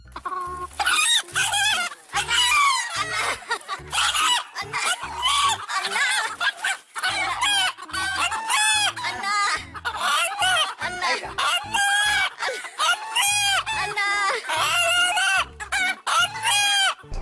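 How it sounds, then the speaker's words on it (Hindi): A rooster from Sangli district whose crow is said to call its owner's name 'Anna' crows and clucks again and again, loud and close, in a busy run of repeated calls with no talking. "एक ऐसा मुर्गा मौजूद है जो अन्ना करके अपने मालिक को बुलाता है"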